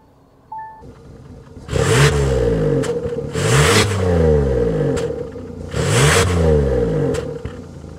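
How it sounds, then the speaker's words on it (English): A 2023 Kia Telluride X-Line SUV with a naturally aspirated V6 starts, then revs three times. Each blip swells into a loud exhaust roar and falls back to a rumbling idle, heard close with no talking. "start it up so you can hear that exhaust now."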